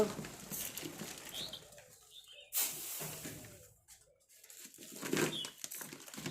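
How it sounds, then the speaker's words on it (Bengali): Pigeons feed on scattered rice in the morning, with soft cooing, bursts of wing flapping and a light pecking patter close by. "এই দেখো পায়রাগুলো"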